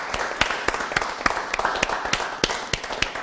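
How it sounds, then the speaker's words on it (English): Audience applause of thanks: sharp, fairly regular claps ring out over a steady wash of softer clapping, with no talking on top. "if we could give a big worldwide clap of thank you to Mr. Aaron Nace"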